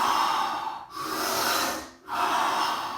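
Rapid, forceful Wim Hof style breathing: loud, rushing inhale-exhale cycles close to the microphone, with two brief pauses between powerful breaths and no speech.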